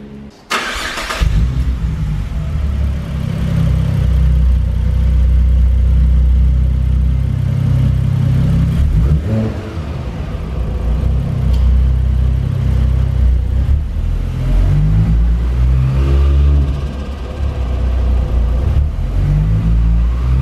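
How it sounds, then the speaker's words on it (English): A turbocharged car engine with a turbo-side intake cranks and fires up, then holds a loud, rumbling idle with rising revs and whooshing turbo boost, close and alone with no talk. "we're going to start up the turbo and I'm going to try and load some boost in"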